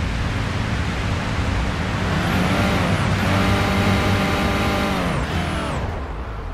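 A car engine in the police driving game Police Simulator revs loudly and high, its pitch climbing in long sweeps through the gears, holding a sustained strained whine before dropping back, with no talk over it.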